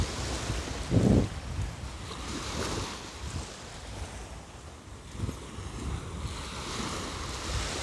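Waves roll onto Back Beach at Vung Tau on a calm morning, with steady surf wash, one louder breaking crash near the start and wind buffeting the microphone.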